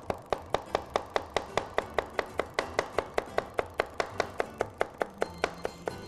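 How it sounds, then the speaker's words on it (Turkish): Red kapya pepper is chopped finely with a knife on a board, a fast steady stream of crisp close taps with no talk. "İnce ince doğrayacağız."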